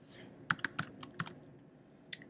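A formula being typed on a computer keyboard: a handful of crisp, close key clicks in an uneven burst, then a pause and one final tap, fairly quiet.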